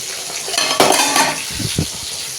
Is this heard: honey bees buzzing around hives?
no